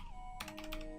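Quiet keys clatter on a computer keyboard in a brief quick run of typing, close and alone with no talk.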